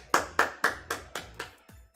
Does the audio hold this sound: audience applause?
yes